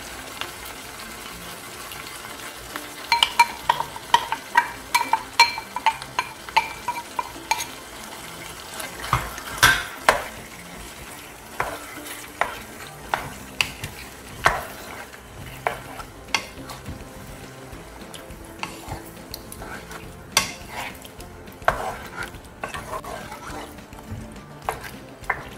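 Tomato sautéing for beef mechado in a pan, with soft sizzling beneath repeated scraping strokes of a spoon stirring, irregular clinks and scrapes spread across the clip.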